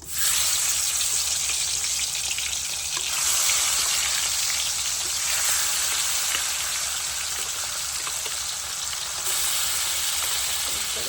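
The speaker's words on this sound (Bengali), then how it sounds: "তেলটা গরম হয়ে গেছে দেখো দেখতে পাচ্ছ এখন এই মাছগুলো এক এক করে দিয়ে দেবো" Fish sizzling in hot oil in a wok, a loud, steady, continuous frying hiss with small crackles running throughout, close and with no talking.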